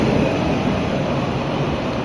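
A goods train rolls through Gudur railway station, giving a steady, loud, continuous rumble with broadband rail noise that holds level for the whole stretch and has no voices over it.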